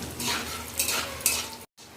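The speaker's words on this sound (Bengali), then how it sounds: "জিরেটা হালকা ভাজা হবে" Cumin seeds frying on full heat for jeera rice, a close hissing crackle with a few bright spoon clinks, ending in a brief cut to silence.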